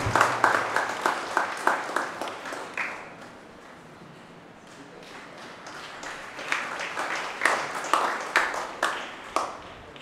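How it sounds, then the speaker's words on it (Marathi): A church congregation claps at a farewell ceremony after Holy Mass. Bursts of rhythmic hand clapping from a crowd fade to a quiet lull in the middle, then pick up again in strong repeated waves. "आपण जोरदार टाळ्या वाजवूया, सिस्टरांचं स्वागत करूया."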